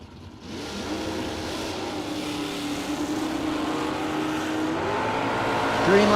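A Camaro Roadster drag racer roars down the strip, its engine note climbing steadily and growing louder over several seconds, heard from trackside.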